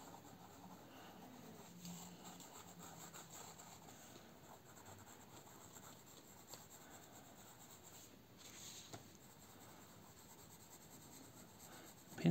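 A 2B or HB pencil drawing on paper makes a faint, steady scratching and rubbing in close, quiet strokes that continue throughout, with no speech.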